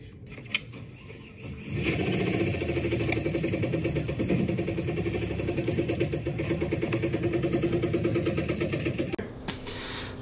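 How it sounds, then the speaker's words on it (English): A Dodge Redeye engine cranks over and settles into a rough, rhythmic running note with a steady tapping knock pulsing through it, fairly close, before it cuts off near the end. "And then I'll also show you what I'm talking about with engine knock."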